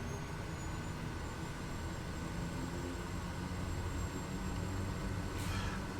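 Kodiak 100 turboprop engine holding at high idle before takeoff in Microsoft Flight Simulator 2020, a steady, even drone with a faint whine, constant in level throughout, no voices.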